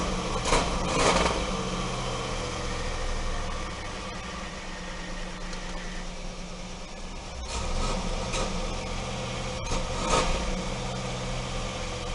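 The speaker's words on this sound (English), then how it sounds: "It's still got a miss in the motor due to I think it's a spark plug or a spark plug wire." A 1991 Cadillac Seville engine idles with a misfire, a steady rumble broken by periodic stumbles and surges, running alone and fairly loud throughout.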